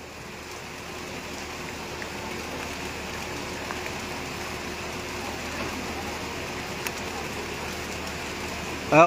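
Steady, dense hiss of heavy rain pouring continuously, with a low rumble underneath and a brief louder knock at the very end.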